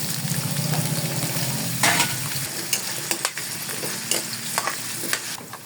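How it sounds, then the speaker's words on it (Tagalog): Potatoes and carrots frying in hot oil sizzle loudly and close up, with a few sharp bursts and stirring clatters partway through. "mainit na po yung mantika, lalagay na po natin yung patatas at carrots"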